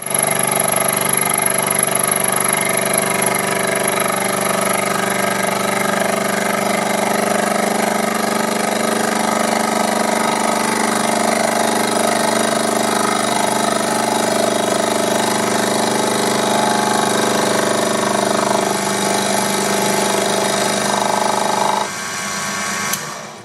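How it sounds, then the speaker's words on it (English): Small Proxxon PD 250e benchtop lathe turning a steel shaft, a steady close motor whine with tonal hum running continuously and loud, ending abruptly near the end. "This small lathe can't cut deep enough to go through the scale,"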